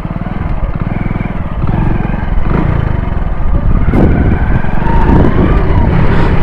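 A Hero HF Deluxe motorcycle ridden along a narrow lane, its small single-cylinder engine thrumming loud and close in a steady low drone that builds slightly as the bike picks up speed, with wind rumble over it.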